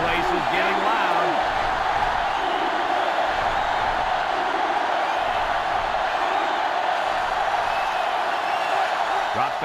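A loud, dense stadium crowd roars continuously in a college football video game championship between Ole Miss and Florida State, with a commentator talking over the din.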